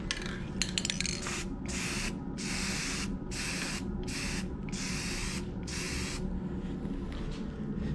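Short bursts from a spray can lay a light finish coat on an apple wood vase, about six hissing blasts in an even rhythm with brief gaps between them, close and clear with no talk.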